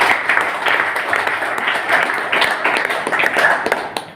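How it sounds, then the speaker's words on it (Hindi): A seated audience at a gathering gives a round of applause, a loud, close, uneven patter of many hands that swells and dips, with some talk mixed in. "पहले तो एक जोरदार ताली आप सभी के लिए"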